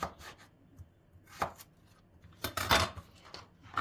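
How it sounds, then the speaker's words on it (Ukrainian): Carrots being chopped with a knife on a board during home cooking: a run of sharp, close cutting taps in an uneven rhythm, with a busier cluster of chops toward the end and no talking. "нарізаємо ще й моркву і все"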